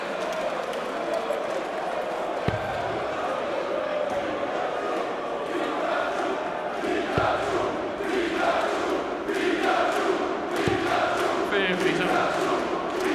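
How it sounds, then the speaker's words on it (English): A large darts crowd at the PDC World Cup of Darts roars continuously in a big arena, a loud sustained mass of voices with occasional sharp thuds and swells. "And the big crowd roaring him on."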